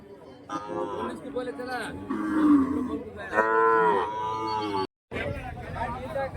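Calves and cattle at a Friday livestock market in Kundarapalli, Krishnagiri district, give several loud, drawn-out moos close by, one after another, with people talking in the background and a brief dropout near the end.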